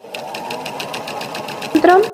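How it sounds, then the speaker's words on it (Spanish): A sewing machine runs steadily, stitching across the top seam at the waist of a flared skirt, a close, even mechanical whir with a brief louder burst near the end. "entonces se enfrentan los derechos y vamos a coser todo por arriba"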